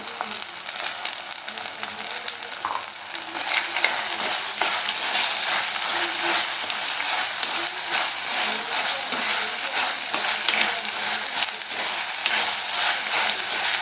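Tomatoes and curry leaves sautéing in a pan for chicken curry, a continuous close hiss of frying that grows louder after a few seconds, with soft stirring scrapes mixed in.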